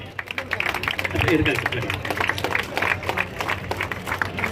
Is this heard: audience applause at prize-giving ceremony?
yes